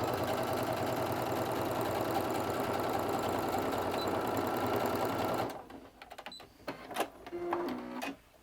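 A sewing machine runs in a steady, continuous whirr as it stitches closed the turning opening of a fabric bag-backpack with matching thread, then stops, leaving a few soft handling clicks and knocks.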